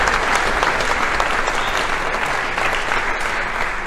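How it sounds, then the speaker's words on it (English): Dense, steady applause from an audience at an annual showcase event in Eugene, sustained and loud at an even level for the whole stretch with no break. "Can we get a big round of applause for people who made this go?"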